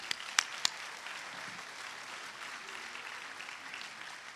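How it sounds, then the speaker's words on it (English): A gathering at Cleveland State University's Student Center gives a round of applause, a soft, distant patter of clapping throughout, with a few sharper close claps near the start. "let's give them a round of applause"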